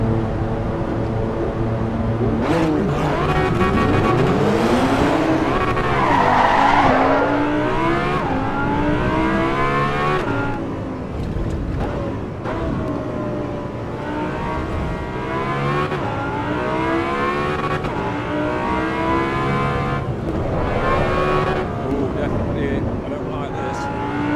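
Race car engines roar and rev in the racing game Assetto Corsa Evo, rising and falling in pitch through gear changes and acceleration, loud and continuous, with someone talking over the engine sound.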